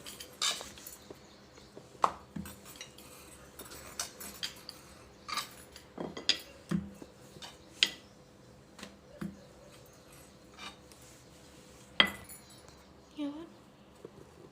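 A knife cuts bellam (jaggery) biscuit dough into pieces, making scattered sharp taps and clicks on a board at an irregular pace, with a low steady hum and faint voices in the background.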